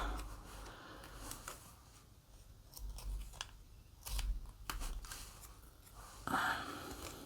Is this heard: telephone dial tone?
no